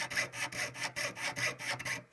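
A jeweler's saw blade cuts through metal sheet in a saw frame, making about eight steady back-and-forth rasping strokes in an even rhythm, close and moderately quiet, with no voices.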